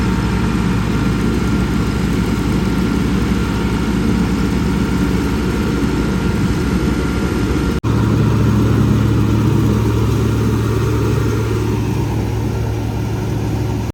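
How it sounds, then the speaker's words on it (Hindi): A tractor engine labours under load, hauling a trolley while also powering a thresher; a steady, heavy low drone runs throughout, with a brief dip and a deeper hum after the midpoint. "ट्रैक्टर का सही जोर लग रहा है जी क्योंकि ट्रैक्टर ने ट्राली भी को भी खींचना है"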